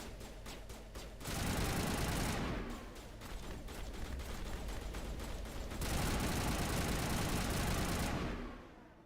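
A player fires weapons in the video game Mass Effect, loud bursts of rapid gunfire in repeated stretches, with crackling shots layered over a steady background roar and brief gaps between volleys.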